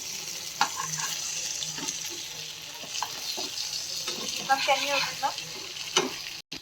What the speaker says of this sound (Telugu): టూ సైడ్స్ ఇలా మంచిగా ఫ్రై అయ్యాక మళ్ళీ ఒకసారి తిప్పేసుకుందాము.